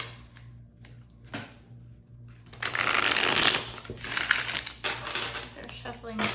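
Tarot cards being shuffled by hand, a soft riffling flutter that starts quietly with a few taps and then swells into a dense, steady rush of card edges for several seconds, tapering off near the end.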